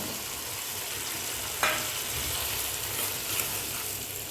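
Vegetables with softened tomato sizzling in a pan as they are stirred, a steady frying hiss broken by a couple of sharper scraping clatters from the spoon, with no one talking.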